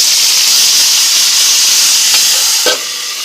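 Chopped vegetables, including diced carrot, go into a hot pan with fried sago and ginger for sabu pulao, giving a loud, steady, close hiss of sizzling with a couple of sharp clicks near the end and no talk.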